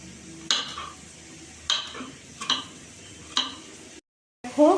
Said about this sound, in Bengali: দেখো গাজর, আলু, বিনস ভাজা হচ্ছে